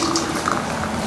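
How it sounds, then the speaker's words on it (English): Hot water poured from a kettle into jars, a steady close-up rush of liquid for about a second, loud and unbroken. "We're going to add hot water to the hot water jars."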